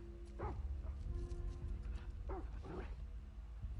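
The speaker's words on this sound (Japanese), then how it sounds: "犬はやばい。 犬はやばいだろ。" A dog growls and snarls in The Last of Us Part II, a few short rough vocal bursts standing over a low, rumbling game ambience.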